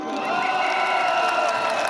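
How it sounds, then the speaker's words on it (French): An audience cheers and whoops in a sustained wave of crowd noise, loud and continuous, welcoming a performer to the stage. "Je vous prie de faire un tonnerre d'applaudissements pour Thomas Sérafine"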